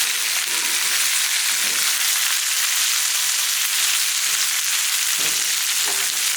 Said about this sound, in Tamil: புளி இதை நல்லா வதக்கிக்கலாம்